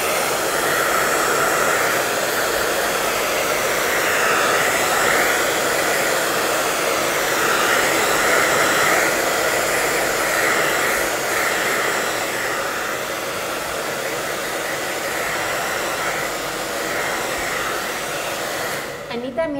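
A hair dryer runs steadily and loudly for nearly twenty seconds while drying primer-painted wood, its continuous whooshing whir holding close and even before cutting off at the end.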